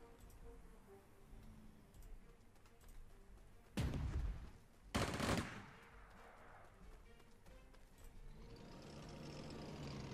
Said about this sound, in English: that's one mean anti-aircraft gun